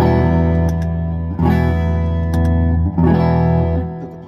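Overdriven electric guitar, a Gretsch through a low-gain overdrive pedal, strums a few thick, sustained chords, each ringing out before the next, loud and close with no talking.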